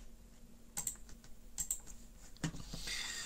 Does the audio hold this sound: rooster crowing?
no